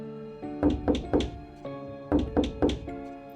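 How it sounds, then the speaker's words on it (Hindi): Slow knocking on a door: two separate sets of three deliberate knocks with a pause between, heard over a low steady hum. "फिर अचानक दरवाजे पर किसी के धीरे धीरे खटखटाने की आवाज आई"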